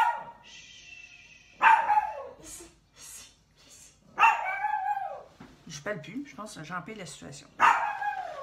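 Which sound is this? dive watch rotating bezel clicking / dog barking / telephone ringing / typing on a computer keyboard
dog barking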